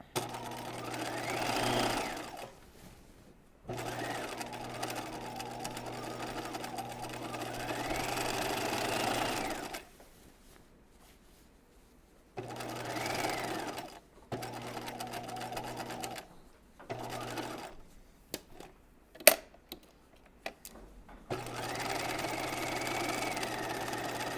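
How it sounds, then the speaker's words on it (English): Sewing machine stay stitching a raglan top sleeve at a half-inch seam allowance, running in several long steady bursts with short pauses between, close and clear. "So I'm just going to stay stitch at 1/2 inch"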